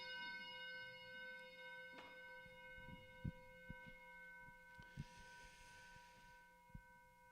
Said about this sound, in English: Let me gong us in here.